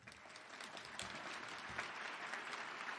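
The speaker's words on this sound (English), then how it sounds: "Please give yourself a round of applause." Applause from the audience at an annual teacher of the year gala, a continuous wash of many hands clapping, heard quietly and from a distance with occasional louder claps standing out.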